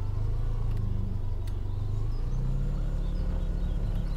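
A farm vehicle driving in the video game Farming Simulator 17, a steady mid-pitched engine drone running continuously with faint bird sounds and no talking.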